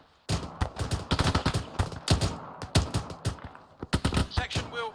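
Rapid rifle fire from the ArmA 3 military game, loud bursts of overlapping shots cracking in quick succession for several seconds with brief gaps, close and dominant.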